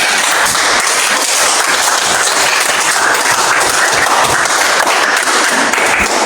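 A room full of people applauds at a school coaching session, a steady dense wash of clapping that holds at full volume throughout.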